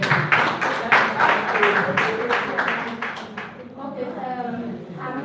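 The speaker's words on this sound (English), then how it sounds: "Please let's appreciate them for a round of applause for them." Applause from an audience for a presenting group, group 1 at table 4, dense clapping in the first half that thins and fades toward the end, with a murmur of voices underneath.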